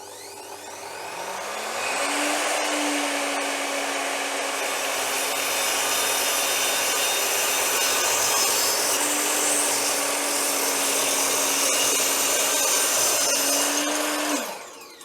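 A power saw fitted with a Trend blade spins up to a steady whine, then cuts through two stacked 18mm plywood boards in a loud, sustained grinding roar before winding down, with no talking.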